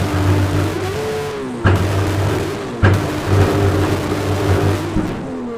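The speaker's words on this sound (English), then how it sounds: "this is an exceptionally loud car" An exceptionally loud race car launches at the Simola Hillclimb, its engine roaring close and steady, with sharp rises in pitch as it shifts gears twice while pulling away.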